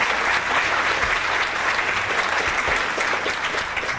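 Steady, dense applause from an audience at a Dr. Sebi health presentation, a sustained roar of many hands clapping, with no talk over it.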